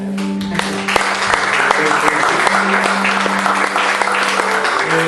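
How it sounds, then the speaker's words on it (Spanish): Loud church congregation applause, dense and sustained for about five seconds, with a steady low hum running underneath and faint voices mixed in. "Vamos a darle un aplauso al Señor también"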